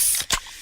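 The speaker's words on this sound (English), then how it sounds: "that's the sound of a freshly opened fizz-filled Pepsi" A freshly opened fizzy Pepsi bottle lets out a short, sharp hiss of escaping gas with a quick spraying burst, close and clear, less than a second long.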